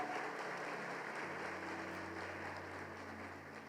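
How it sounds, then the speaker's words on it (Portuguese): A congregation applauds in church during a worship service, a steady broad patter of many hands clapping heard alone, holding evenly and easing slightly toward the end. "Vamos aplaudir ao Senhor por isso."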